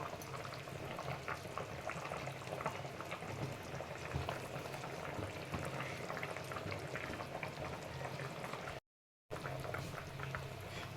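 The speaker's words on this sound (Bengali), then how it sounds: "বড়াগুলো কেমন ফুটছে কীরকম সুন্দর হচ্ছে ফুটে ফুটে" Lentil fritters made from ground split-pea dal simmer in a pot of bubbling broth, a steady close wash of boiling and fizzing that continues throughout, with a brief dropout near the end.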